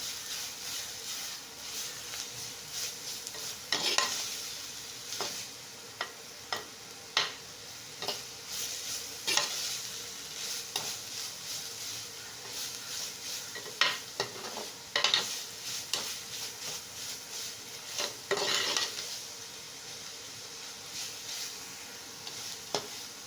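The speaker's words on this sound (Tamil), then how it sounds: "சீவனை உடனே குக் பண்ணிடுங்க இல்லைன்னா கொஞ்சம் லைட்டாக கலர் சேஞ்ச் ஆகும் வதக்கிக்கோங்க" Grated carrot sautéed and stirred in a pan: a soft, continuous low sizzle broken by repeated sharp spatula scrapes at irregular intervals.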